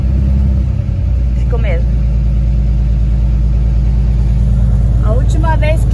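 Chevrolet Opala engine running after six attempts to start it, a steady low rumbling idle close by, with someone speaking over it.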